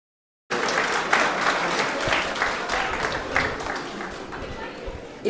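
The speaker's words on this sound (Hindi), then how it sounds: "जोरदार एक बार तालियां बच्ची के लिए दोबारा बजा दीजिए" Audience at a community talent award ceremony gives a young girl a round of applause, a steady dense clapping that starts abruptly and continues evenly at moderate distance for about five seconds.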